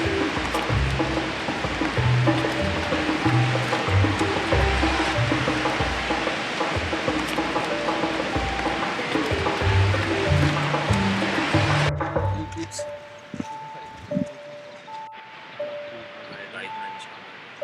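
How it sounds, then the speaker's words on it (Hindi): A river rushing through a pine forest in the Parvati Valley, a loud, continuous broadband roar held close for about twelve seconds, then dropping suddenly to a much quieter background. "आसपास जो आवाज़ आ रही है नदी की, सबसे बढ़िया बात।"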